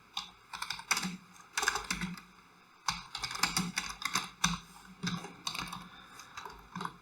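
Fast keystrokes on a computer keyboard while code is typed for an HTML and CSS lesson, irregular bursts of close clicky taps with brief pauses, no talking.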